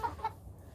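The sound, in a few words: chicken or rooster clucking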